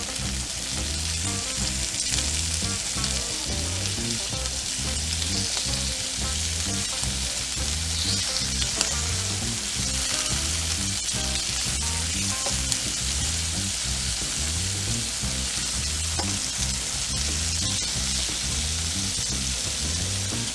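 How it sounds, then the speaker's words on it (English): Shrimp sautéing in a pan for a lemon shrimp salad give off a steady, loud sizzle that runs without a break, with rhythmic stirring or tossing sounds on top and no talking. "If you have shrimp and you're sauteing it"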